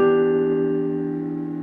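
A single sustained piano chord from a song rings out and slowly decays, close and clear, with no voice over it.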